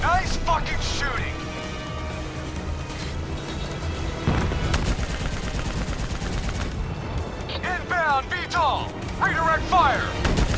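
Heavy gunfire and explosions from the video game Call of Duty Black Ops 3 form a dense, continuous barrage of rapid shots and crashes, with shouted voices breaking through the chaos.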